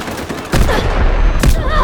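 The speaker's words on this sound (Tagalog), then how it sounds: "nasa harap ko sumabog" Explosions and heavy gunfire burst out in the video game Delta Force, a loud broadband blast after about half a second followed by a second boom near the end, with sustained rumbling combat noise between.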